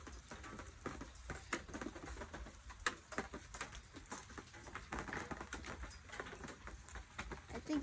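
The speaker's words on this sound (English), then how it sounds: "Sounds like hail is hitting." Hail patters against surfaces during a storm in Missouri, a dense run of sharp, irregular taps that keeps going without letup, fairly quiet and steady throughout.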